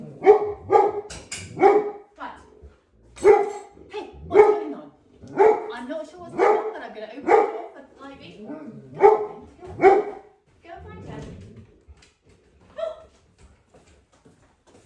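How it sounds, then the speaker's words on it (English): Several dogs bark excitedly in a kitchen in quick repeated bursts, with yips and whimpers in between, fairly close indoors; a person speaks briefly near the end. "There's excitement in the kitchen, the dogs."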